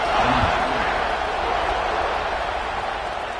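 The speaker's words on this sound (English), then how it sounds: "this crowd is buzzing after that last score" A stadium crowd roars in the College Football 26 video game during a Georgia versus Texas matchup, a steady, dense, loud buzz of cheering that holds throughout.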